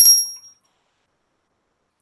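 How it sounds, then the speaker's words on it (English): A small bell struck once in a quiet room, ringing out bright and high before decaying over about half a second, followed by silence and a faint brief rustle at the end. "we're going to ring our bell."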